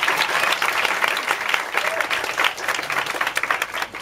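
A crowd at a rained-in live band event in a Tokyo club gives sustained, loud applause, many hands clapping densely and evenly throughout with a few scattered shouts mixed in.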